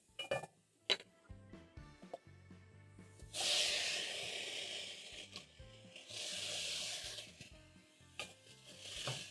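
Shredded carrots and broccoli hitting a hot pan with onions and toasted spices for a broccoli rice stir fry, a soft hiss rising in bursts between clinks and scraping of a utensil, quiet and close.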